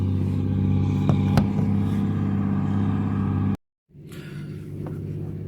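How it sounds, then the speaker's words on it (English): A heavy tractor engine rumbles steadily nearby with clattering, cuts out abruptly to silence, then resumes with a lower idling drone. "I think I hear a tractor coming up behind us"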